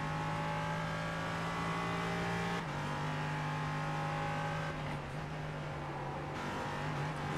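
Onboard a sports car racing through the final part of a lap at a Blue Ridge Grand Prix event, a loud, close engine drone holding steady with brief dips and shifts in pitch as it takes corners, with no talking.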